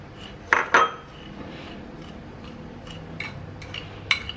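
Coconut milk and sugar are stirred in a bowl, a utensil clinking against the side a few times in quick, sharp taps, with quieter scraping between them, close by and with no talk.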